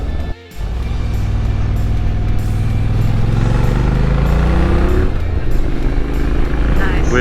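A motorcycle engine hums steadily and rises in pitch while riding through winding Alpine corners and switchbacks, loud and close with constant wind, as a rider talks over it.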